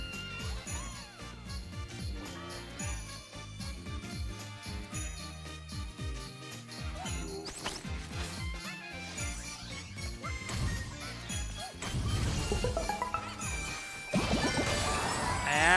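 Bells jingle in the Astro Bot game amid busy music and crashing effects, with bright tinkling bursts building louder toward the end.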